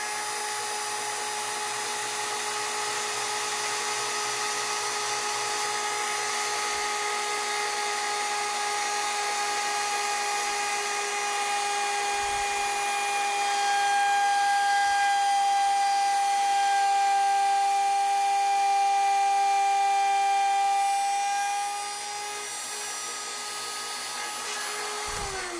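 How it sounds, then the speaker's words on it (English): Router cutting on a Porper Q-Lathe with the feed screw running, a continuous high-pitched motor whine with steady hiss, holding level for a long stretch and easing off slightly near the end. "Come back, engage our router"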